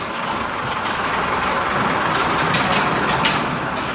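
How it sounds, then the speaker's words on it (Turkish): A 50cc RKS Blazer XR scooter engine runs steadily after starting, a loud continuous idling drone with no pauses, heard close and alone. "Şimdi motosikletimizi çalıştıralım."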